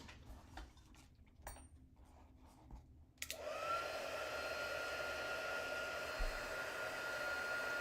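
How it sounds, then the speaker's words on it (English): An embossing heat gun used on an Easter card craft. After a few quiet handling taps and clicks, it switches on with a click and blows a loud, steady whine and airy roar that runs on without a break. "Embossing gun."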